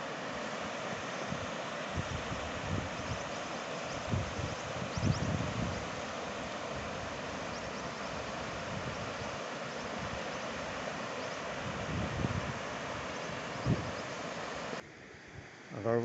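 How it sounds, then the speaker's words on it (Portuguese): A waterfall on the Lavrinhas river in Itaberá, Brazil, rushes as a steady broadband roar, heard from a distance under gusty wind buffeting the microphone on a cloudy day. "Olha que coisa linda, cachoeira."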